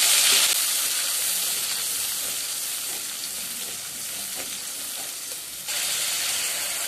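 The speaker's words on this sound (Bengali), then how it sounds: "পেঁয়াজ বাটা ভালোভাবে ভেজে নিয়ে এর থেকে তেল ছাড়া অবধি ওয়েট করব" Onion paste with black cumin fries in oil with a steady, close hissing sizzle that swells briefly at the start and again near the end as it is stirred.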